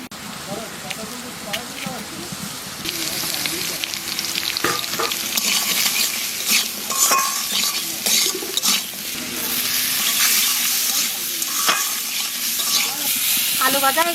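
Potatoes fry in a pan for a Bengali vegetable dish, a steady close sizzle running throughout with frequent scraping and clinking as they are stirred, and no talking over it.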